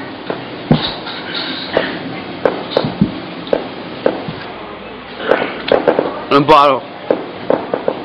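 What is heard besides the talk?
firecrackers and fireworks going off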